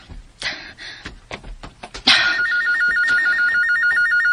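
A telephone rings loudly and steadily in a radio drama, its electronic trill repeating without pause after a few sharp knocks and clicks.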